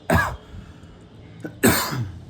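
Two sharp, harsh coughs ring out close by, separated by about a second and a half of near silence.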